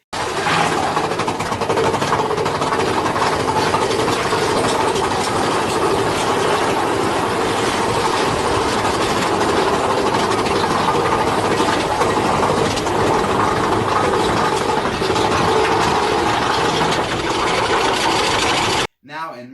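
Big Thunder Mountain Railroad, a family roller coaster at Disneyland, rumbles and clatters steadily along its track, a loud continuous mechanical roar with rattling and wind noise that barely changes, ending abruptly.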